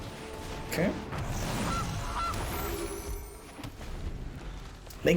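A goose honk sound effect from the Magic Arena card game, several loud nasal honks in the first two seconds over busy game audio, with a voice talking faintly underneath.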